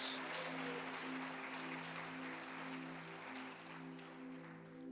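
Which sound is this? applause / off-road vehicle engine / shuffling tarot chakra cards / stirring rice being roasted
applause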